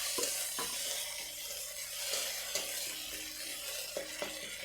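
Ground spices and pepper being stirred into payesh, a rice-and-milk pudding, in a pot: a steady soft sizzle with faint, irregular scrapes and taps of the spoon, moderately close, no voices.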